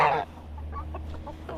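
A hen that flew out of her pen clucks while being caught, giving a few short, soft clucks close by over a low steady hum.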